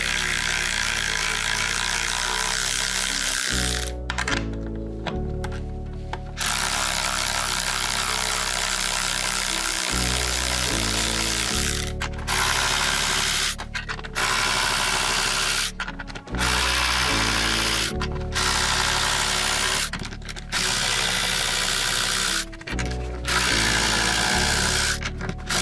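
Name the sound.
Ryobi 4V USB lithium 3/8in ratchet removing nuts from bolts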